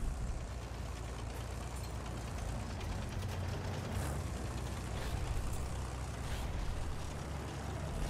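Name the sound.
artillery truck engine in video game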